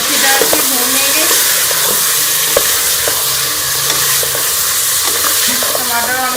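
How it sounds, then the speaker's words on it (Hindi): Dry spices and tomatoes fry with meat for balti gosht, a loud continuous sizzle broken by repeated spoon stirring and scraping against the pan, with some faint talk in the background. "ये इसमें सारे ड्राई मसाले भी शामिल कर लूँगी और इन सबको हम अच्छी तरह से भून लेंगे"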